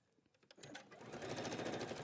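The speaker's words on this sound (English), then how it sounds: "And then I'm going to sew that one together." A sewing machine stitches a fabric seam, starting quietly and quickly building into a loud, steady, rapid mechanical whir of repeated needle strokes close at hand.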